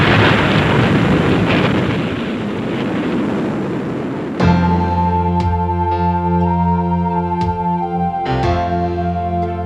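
Atomic weapon detonation: a loud, sustained broadband roar and rumble for about four seconds, which then gives way abruptly to a tonal music bed.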